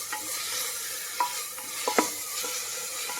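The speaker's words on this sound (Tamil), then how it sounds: "கொஞ்சம் உப்பு சேர்த்துக்கலாம். நல்லா வதக்கி விட்டுக்கலாம்." Tomatoes sautéing with salt in a pan give a soft, steady sizzle with a few scrapes and stirs of a utensil, quiet and close, with no voices.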